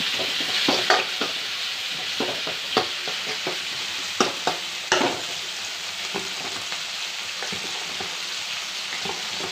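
Tomatoes and curry leaves sauté for mutton kuzhambu, a soft continuous sizzle with intermittent scraping stirs and light clacks of a spoon against the pan, close up and without talk.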